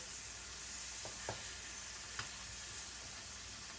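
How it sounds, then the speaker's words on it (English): Tomatoes in butter sizzle in a frying pan with a soft continuous hiss broken by a few quick spatters, heard close and fairly quiet, with no speech. "I'm going to flip these tomatoes over here"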